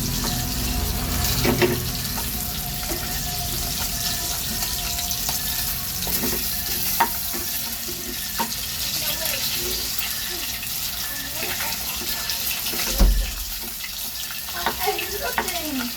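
Pork for minudo frying in a pan until golden brown as its fat renders, a steady watery sizzle with a few sharper pops and clinks of utensils, fairly close and continuous without talk.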